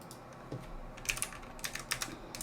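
Fast clattering keystrokes on a worn computer keyboard that has to be struck hard to register, a dense run of close, sharp taps with no talk.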